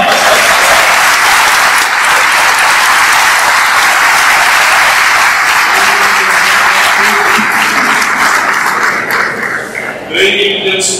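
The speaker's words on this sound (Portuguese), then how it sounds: "Palma de palmas." Loud, sustained applause from a church congregation after the kiss at a diamond wedding anniversary vow renewal, continuing for about ten seconds, with voices rising faintly beneath it toward the end.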